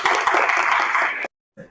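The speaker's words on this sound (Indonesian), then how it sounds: "Tepuk tangan lagi untuk kita." Short burst of clapping from a classroom group at a vocational school, dense and close for about a second before stopping abruptly, with a faint voice afterward.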